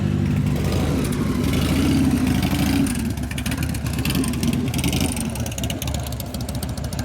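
Custom Harley chopper motorcycle with an Evo engine revving on its first test drive after a rebuild, a loud, continuous rumbling roar close by that rises and surges throughout.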